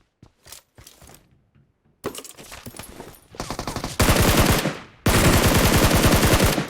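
Rapid automatic gunfire from PUBG Mobile, starting as scattered distant shots and building into loud, sustained bursts of full-auto fire that cut off briefly and then resume.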